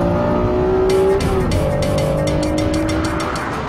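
A Honda NSX mid-mounted 3-litre V6 with four cams and variable valve timing roars steadily at high revs, its rising engine tone overlaid with rapid rhythmic pulses, loud and close, with no talk.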